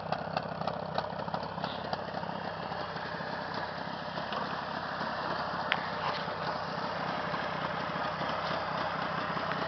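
A Jawa 638 motorcycle engine idles close and steady, its fast, even beat clattering throughout with no one speaking.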